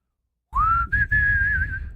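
A person whistles the opening melody of a song, a clear single-note tune that rises then holds with slight wavering, close and alone after a brief silence.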